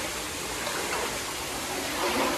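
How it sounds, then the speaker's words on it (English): Compressed air rushes from a pipe inside an old barn in a loud, steady, broad hiss that holds close and unbroken throughout. "This is obviously compressed air pipe."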